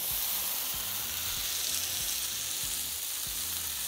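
A cheese-wrapped beef burrito crisps in a hot pan, giving off a loud, close, continuous sizzle and frying hiss with no talking.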